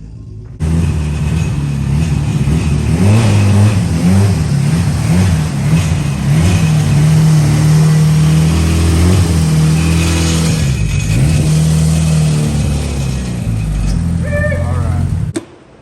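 An old beater car's engine runs and revs steadily while it is driven into a garage, with the motor droning loud and close throughout and people talking over it.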